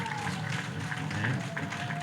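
An audience at a MISA Tanzania forum in Iringa claps for the guests. The applause is a steady, dense crowd sound that continues throughout while a speaker's voice carries over it.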